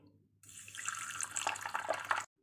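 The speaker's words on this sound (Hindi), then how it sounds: "अभी हम इसमें थोड़ा सा पानी डाल देंगे" A short stream of water poured into a bowl of chia seeds, close and steady for about two seconds before stopping abruptly.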